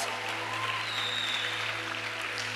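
Applause from a live audience at a talk, encouraging invited guests onstage; a steady, even patter of clapping lasting a couple of seconds, moderately distant with no voices standing out.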